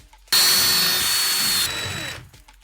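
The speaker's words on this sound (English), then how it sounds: "we're just gonna have to drill through with some drywall anchors" A power drill drilling through drywall for anchors whines steadily for about two seconds, close and loud, then spins down and stops.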